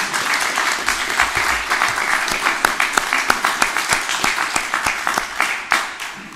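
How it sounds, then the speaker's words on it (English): An audience at a mayor's press conference breaks into steady applause, a dense wash of clapping that thins toward the end into a few louder individual claps. "Can we have a little round of applause for that?"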